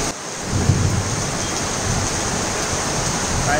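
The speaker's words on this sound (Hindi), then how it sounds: "बाहर बहुत बारिश हो रही है।" Heavy monsoon rain falls outside in Chennai, a loud, continuous roaring wash of rainfall with a low rumble beneath it, steady from start to finish and with no voices.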